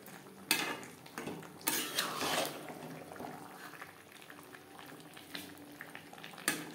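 Chicken and boiled, fried potatoes cooking together in a pan over high to medium flame for a curry: a low, steady sizzle and bubbling, broken by sharp clinks and scrapes of a utensil against the pan as it is stirred.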